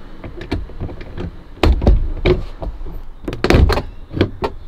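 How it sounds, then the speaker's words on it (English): A plastic trim tool pries the clips off a VW Golf MK5 door panel, making a series of close, sharp pops, snaps and plastic knocks in irregular bursts with no talking. "So now we're going to use the tool around the door to undo the clips."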